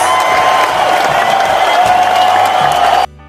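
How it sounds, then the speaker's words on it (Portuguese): A crowd applauds steadily, dense clapping with some cheering mixed in, loud and sustained for about three seconds before cutting off abruptly. "Uma salva de palmas para o Silas."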